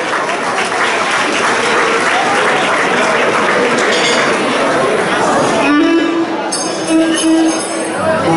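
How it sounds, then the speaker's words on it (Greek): Audience at a Cretan association dance event applauds children who are dancing, with dense clapping for most of the stretch, then tapering into chatter and a sustained musical tone near the end. "Το χειροκρότημα στα παιδιά μας που χορεύουν."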